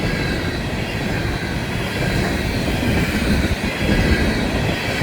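A Florida East Coast Railway freight train rolls past near Fort Pierce, making a loud, steady rumble of wheels and cars that holds throughout, with a high metallic squeal riding on top.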